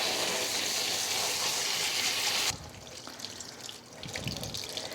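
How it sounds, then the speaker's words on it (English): Tap water running steadily into a sink over chopped relish vegetables in a colander, a loud continuous splashing stream that drops to quieter trickling and spattering halfway through as the water is shifted, with no talking. "And we're just gonna rinse this just like this."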